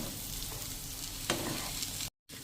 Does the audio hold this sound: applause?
no